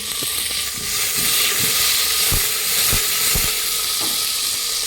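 Eggplant sautéing in a pan for kathirikai kuzhambu, a steady close sizzle and hiss with a few soft clicks of stirring, continuous and even throughout.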